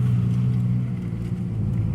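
Ford Ranger pickup with a manual gearbox driving slowly through a parking lot, its mid-pitched engine rumbling loud and close under light throttle, steady with slight rises in revs and no voices.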